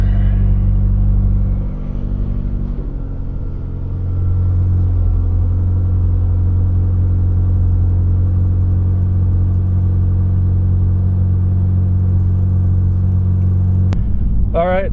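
An Acura ILX runs at a steady idle after a short ram intake install, a close, continuous low engine drone with a faint murmur over it, ending in a brief sharp noise.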